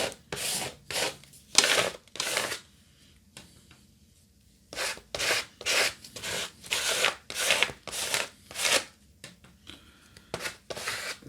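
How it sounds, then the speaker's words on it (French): Repeated scraping strokes as paint is scratched back on a mixed media art journal page with a vintage pin-up theme, rhythmic rasping bursts close up with a short pause midway. "je gratte."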